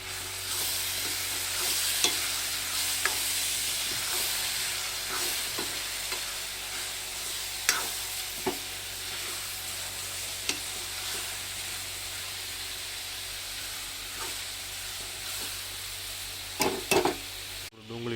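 Chopped onions and tomatoes sizzle steadily in a pan, a continuous frying hiss punctuated by occasional scrapes and clinks of a spoon stirring, close and alone without talk.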